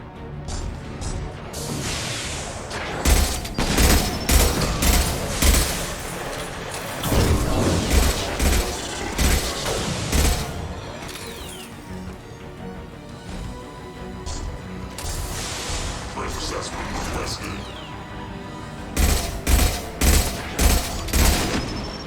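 Gunfire from the video game Mass Effect 2 erupts in repeated loud bursts and volleys, with crashes and booms between them and short lulls, dense and close throughout.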